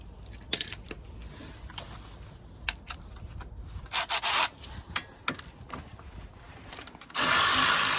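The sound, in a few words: 14mm socket ratchet loosening Volvo XC40 brake caliper bolt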